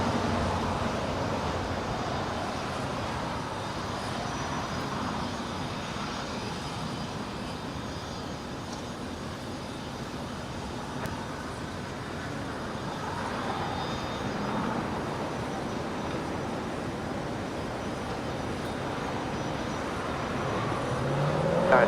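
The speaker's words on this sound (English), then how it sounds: "The Lufthansa Queen is now rolling on the north side" Lufthansa Boeing 747 rolling for takeoff at Los Angeles airport, a steady distant jet roar holding broadband for over twenty seconds and swelling slightly toward the end, with no talk over it.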